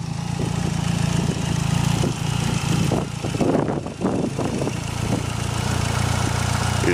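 A Mitsubishi Eclipse 2G GST with a boosted 2.3 stroker engine idles steadily nearby, a deep continuous rumble with a few brief blips and fluctuations partway through, and no talk over it.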